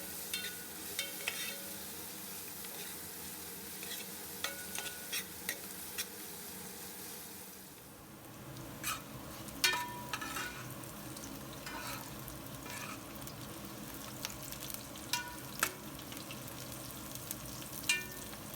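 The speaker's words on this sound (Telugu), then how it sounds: "మనకి ఇలా ఆనియన్స్ అనేది బాగా ఎర్రగా ఫ్రై అయ్యే వరకు కూడా వేయించుకోవాలి" Onions frying in a pan with curry leaves and mint for chicken pulao, a steady close sizzle with occasional stirring scrapes and clinks, quieter at first and livelier after a few seconds.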